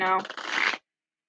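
A brief riffle of cards being shuffled, close and crisp, lasting under a second before silence.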